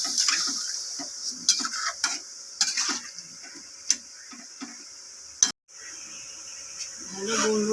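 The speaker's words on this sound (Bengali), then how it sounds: "নেড়ে নিয়ে চাপা দিয়ে দেবো।" A vegetable curry is stirred in a pan, giving irregular close taps, clicks and scrapes of the utensil against the metal over a soft sizzle, then a brief pause and some rustling.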